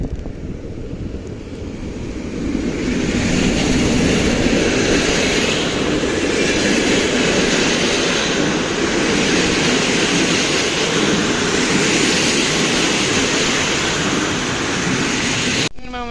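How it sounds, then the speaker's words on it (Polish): A passenger train hauled by an EP07 electric locomotive passes through Bydgoszcz Główna station with a sustained loud rumble and rushing wind noise that builds after about two seconds and then holds steady. "Prowadzony lokomotywą mm, zapewne EP07, ale mogę się mylić, może być EU07."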